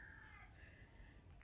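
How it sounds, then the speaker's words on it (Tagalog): Birds call faintly in a forest near a fish pond in the countryside. A crow-like caw and a thin high tone sit over a steady low rumble for a brief moment. "Napakatahimik yung huni ng ibon niya"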